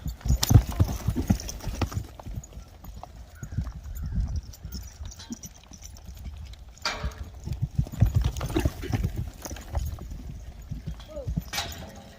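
Mule hooves clip-clop in a steady trotting rhythm on hard ground nearby, with a person talking intermittently over them.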